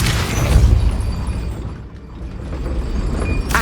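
A Depulso force spell goes off in Hogwarts Legacy, a loud, deep burst with a booming low end that settles into a sustained rumbling whoosh, then a brief snap near the end.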